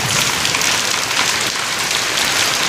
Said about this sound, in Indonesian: Air hujan.